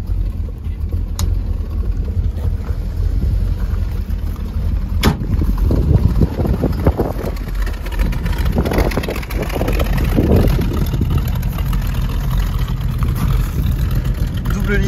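A 1932 Ford roadster hot rod with twin exhaust pipes revving outdoors, a loud throbbing engine drone that swells with throttle blips over constant wind noise.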